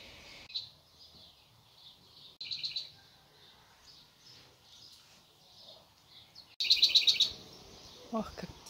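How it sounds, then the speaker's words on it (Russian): Birds sing outdoors near a house with a garden, brief chirping bursts that come and go across quiet, calm air, one louder, closer trill toward the end. "птицы поют."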